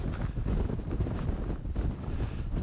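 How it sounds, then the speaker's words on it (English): Strong wind of about 50 mph buffets the microphone with loud, low rumbling gusts throughout, no talking. "we've got plenty of wind"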